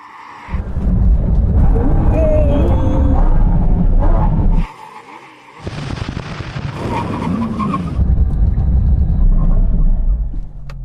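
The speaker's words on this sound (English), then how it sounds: "When we reach the line, full emergency stop." A Porsche GT car braking hard from speed in an emergency stop test, a loud roaring engine and tyre rumble that cuts off abruptly, then resumes as a strained, skidding rush of noise, close and intense.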